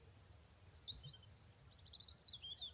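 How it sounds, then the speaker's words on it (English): Birds chirping and trilling in the survival game Mist Survival, a series of bright, fairly faint tweets over a low rumbling ambience, with no talking. "I hear the birds, so we should be safe now."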